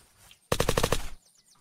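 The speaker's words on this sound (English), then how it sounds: "Can you hear a nail gun?" Nail gun fire in the video game Unturned, one rapid burst of about seven sharp, evenly spaced shots lasting under a second, loud and close against a quiet background.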